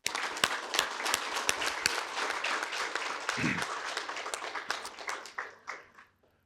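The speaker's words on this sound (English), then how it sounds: "Let's give them a round of applause real quick." A graduation ceremony crowd applauds steadily for several seconds, the clapping thinning out into a few scattered claps at the end.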